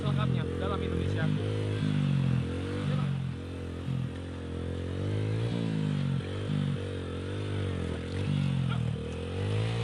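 Five motorcycles struggle along a muddy road in Indonesia, their engines revving and labouring in uneven surges that rise and fall over several seconds, with clattering and scraping mixed in.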